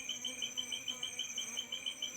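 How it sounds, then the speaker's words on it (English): A steady insect-like buzz with a pulsing rhythm hums from colonized beehives, fairly faint and continuous, with no voices. "You can see the bees."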